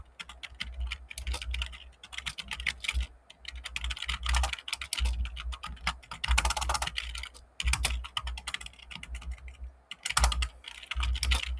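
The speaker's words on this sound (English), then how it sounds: "Well, first things first, I'm gonna write down the basic code first." Fast bursts of computer keyboard typing while code is written, with crisp clustered key clicks and short pauses between runs, close and moderately loud, no voices.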